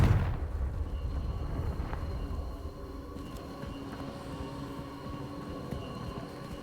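Confringo blasting spell bursting in Hogwarts Legacy, a loud fiery explosion opening the clip and then fading into a low rumbling, crackling tail with lingering magical tones.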